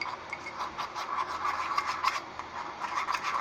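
A DIY purifying face mask mixture is stirred in a small container, giving a soft, continuous scraping rub in quick repeated strokes, close and fairly quiet.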